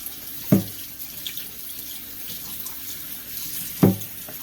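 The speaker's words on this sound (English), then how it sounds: "then we're going to rinse on some cold water" Cold tap water running into a kitchen sink to rinse food, a steady soft splash throughout, with two brief louder knocks of a container against the sink.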